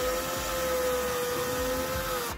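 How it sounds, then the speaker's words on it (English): Phillips drill bit driving a screw through a surface mount into plastic wall anchors for an alarm system motion sensor, a steady close whirring motor hum lasting a couple of seconds and cutting off at the end. "Then using a Phillips head drill bit or Phillips head screwdriver, screw the mount into those anchors."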